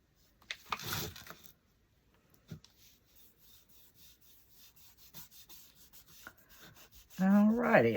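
Painted wood is sanded by hand to distress it, with brisk close rasping strokes early on, then fainter intermittent rubbing, and a brief voice near the end.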